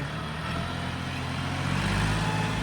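A diesel tractor or six-wheel truck idles at a land-filling work site, a steady low rumbling drone that stays even and fairly close throughout, with no talk.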